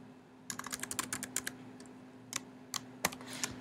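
Quick bursts of keystrokes on a computer keyboard while entering a recipe note, with short clustered taps, brief pauses and a few isolated presses, quiet and close, with no voices.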